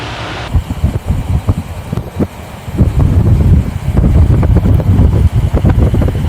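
A 1942 Ford Super Deluxe idles and rumbles low as it backs out of a Las Vegas showroom, its uneven engine chugging close to the microphone amid some wind-like buffeting.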